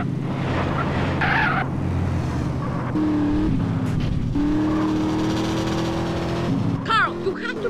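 Car racing hard through a Grand Theft Auto San Andreas mission, engine revving and shifting pitch close up with tyre skids, while characters talk over the driving and music plays underneath.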